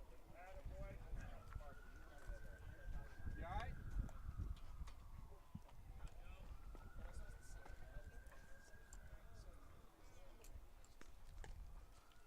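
Distant fire truck sirens wail in long rising and falling sweeps beneath crowd murmur and ambient noise at a live outdoor baseball game, two slow cycles heard far off.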